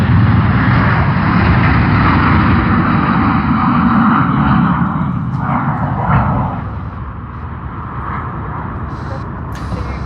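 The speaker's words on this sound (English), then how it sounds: "the Shanghai service on China Eastern." A China Eastern jet airliner on the Shanghai service at Sydney Airport, a loud, close, steady engine roar that holds strong before easing slightly and fading toward the end.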